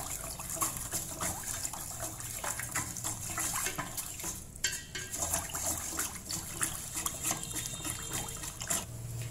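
Salt and sugar are stirred into water heating in a pot, with scraping and clinking of a utensil against the pot over a wet, bubbling background, close and irregular, no talking.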